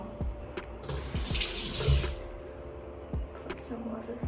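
A bathroom tap runs while water is scooped up to wet a face, a close splashing stream with hand splashes and someone speaking over it.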